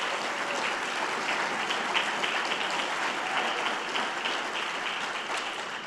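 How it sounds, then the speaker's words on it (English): An audience at a health equity summit gives a round of applause, moderately loud and even clapping that runs for about six seconds before easing slightly, with no talk over it. "Please give them a round of applause as well."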